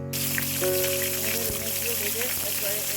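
Pieces of rohu fish sizzling in hot oil in a pan, a close, steady crackle and hiss with scattered pops throughout.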